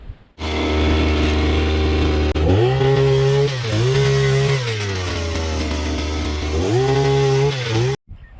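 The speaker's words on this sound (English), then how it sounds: "all we've got to do now with the post auger is to drill a hole" A loud small engine on a post auger runs steadily, its pitch dropping under load and rising again several times as it bores a hole in the ground, then cutting off abruptly.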